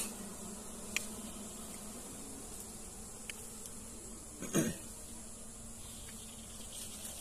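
Agitated honey bees in a beehive colony give a steady droning buzz that hangs throughout, with occasional louder close passes and brief knocks, moderately quiet with no talk.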